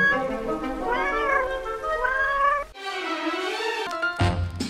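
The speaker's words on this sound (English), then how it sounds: "Cats!" Several cats meowing in a quick, high-pitched, drawn-out run, one call after another, fairly close and loud with no talk over them.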